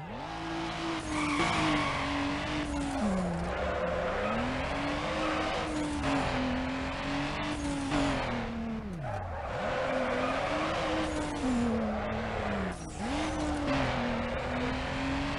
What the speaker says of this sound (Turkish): Şimdi drift var. Drift yapacak.